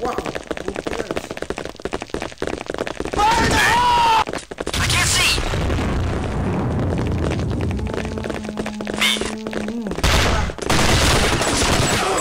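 Rapid bursts of gunfire from the video game Counter-Strike 1.6 crackle in loud volleys through most of the stretch, mixed with explosions and other game effects while players talk over the action.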